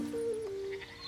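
A cartoon sheep lets out a single short, wavering bleat, close and fairly quiet, over soft background music.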